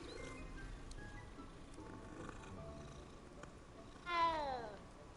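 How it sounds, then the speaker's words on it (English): A cat in Hogwarts Legacy purrs softly and steadily while being petted, then lets out a single clear, rising meow near the end. "I can pet Kitty."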